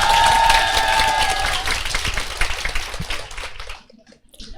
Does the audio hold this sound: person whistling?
no